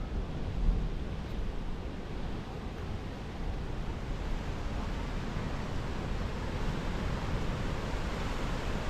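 Steady, broad wash of ocean surf on a beach at Arecibo, Puerto Rico, with wind buffeting the microphone, continuous and fairly loud with no voices.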